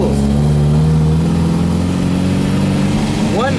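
A Volvo Amazon 122S station wagon engine labors uphill in its lowest gear, a steady loud drone close by with a voice talking over it.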